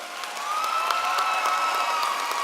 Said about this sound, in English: Let's give these honorees a round of applause